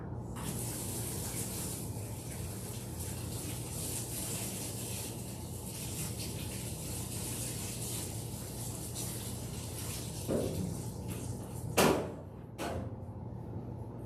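Running water rinses a dog's muzzle during grooming, a steady, faint spray of a hose or tap that continues throughout, with a couple of brief knocks near the end.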